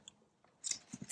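Scissors cutting paper for an ephemera craft project: a few crisp, close snips, with one quick cut and then a louder final snip, and no talking.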